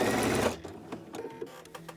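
A Husqvarna Viking sewing machine stitches quilt binding, a brief steady mechanical whir that stops after half a second, followed by scattered soft clicks and handling noises nearby.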